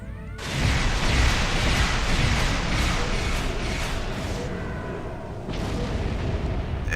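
A Temporal escort ship in Star Trek Online fires a weapons volley at a Borg cube, with a dense, roaring wash of explosions and booming blasts that rises suddenly, holds loudly and then eases into a steady rumble.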